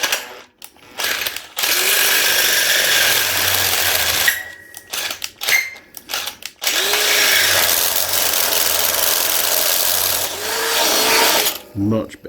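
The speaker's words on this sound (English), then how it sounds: "It's a brand new drill bit." A power drill fitted with a brand new drill bit bores in loud sustained bursts, pausing and restarting several times, with brief gaps of handling noise between runs.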